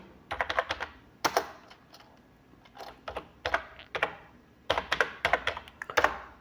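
Fingers typing on a computer keyboard, quick bursts of clicking keystrokes with short pauses between, close and fairly quiet, no talking.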